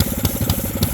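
A mini bike engine running on choke putters close and loud with a rapid, uneven pulsing idle and periodic sharper bursts.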